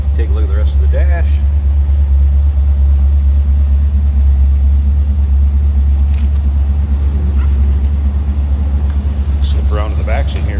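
A 1956 Ford Thunderbird engine idles with a steady low rumble after a cold start, running continuously while faint voices and small sounds drift in and out.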